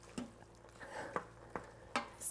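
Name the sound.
stirring mac and cheese in an Instant Pot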